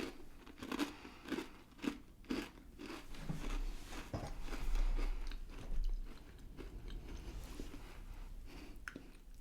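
Michigan windmill cookies crunched between the teeth in close, crisp bites followed by steady chewing, repeated several times in a quiet room with no talking.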